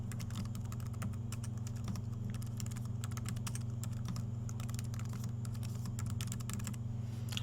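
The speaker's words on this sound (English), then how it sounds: "I'm going to type out a simple to-do list." Rapid, steady keystrokes on a computer keyboard as a simple to-do list is typed in WordPad, close up over a constant low electrical hum.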